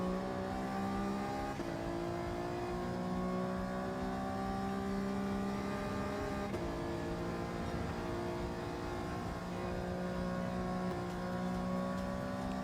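Race car engine in Gran Turismo 7 at Road Atlanta, holding a steady loud drone while cruising a final lap, pitch climbing through gears with brief shift dips.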